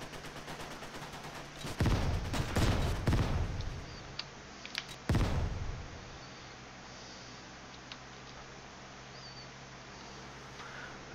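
Gunfire in WWII Online: a few bursts of sharp, loud shots crack out near the start and middle, then the scene falls back to a quiet, steady ambient hum.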